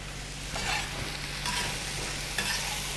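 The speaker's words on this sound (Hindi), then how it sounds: "अब हम इसको कलेजी के साथ मिक्स कर लेंगे।" Liver and garlic sizzle in a hot pan while being stirred, a soft steady frying hiss broken by scraping strokes of the spoon, heard up close with no talking.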